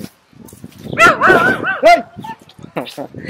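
A mother dog with a litter of puppies in a hill village barks and whimpers in a close, loud burst of yelps and howl-like cries, with a person talking nearby.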